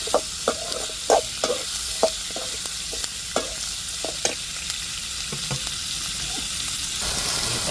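Ginger and garlic fry in a pan with a constant close sizzle, punctuated by a rapid series of metallic stirring clacks from a spatula that stop near the end, leaving only the hiss.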